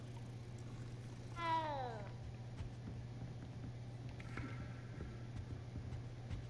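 A cat in the video game Hogwarts Legacy gives a single short, falling meow, fairly faint over a steady low background hum, with quieter game sounds after it.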